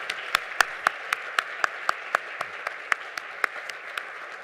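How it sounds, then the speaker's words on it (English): Sparse, steady handclaps at an MLK humanitarian celebration at McKendree, a dozen or so distinct claps spaced evenly and fairly faint, as if from only a few people in the audience, with no talking. "let's give her one more round of applause from McKendree"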